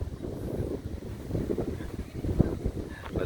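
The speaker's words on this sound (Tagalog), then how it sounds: "Masyado nga lang malakas ang hangin ngayon." Strong gusting wind at a beach buffets the microphone in low rumbling bursts, with a faint sense of open water nearby.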